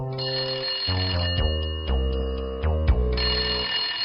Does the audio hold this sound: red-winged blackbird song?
no